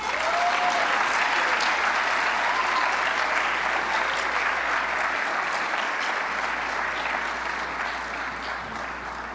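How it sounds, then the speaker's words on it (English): Sustained applause from a large audience at a state high school speech individual events finals, dense and steady throughout before easing slightly toward the end. "continue applauding"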